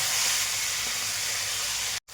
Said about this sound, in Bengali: ডিমগুলো একটু হালকা ভেজে নেব।